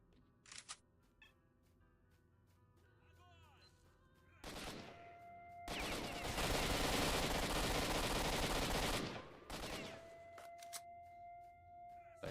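Gunfire rings out in the video game Stalker 2, scattered single shots first, then a dense loud burst of automatic fire lasting a few seconds, followed by a few more shots.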